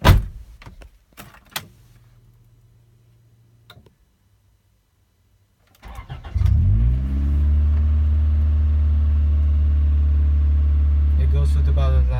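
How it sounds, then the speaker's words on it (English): A 1994 Acura Integra LS is started after a few clicks and knocks, then idles with a steady, loud engine hum that holds for the rest of the stretch. "let's turn it on and test drive this car."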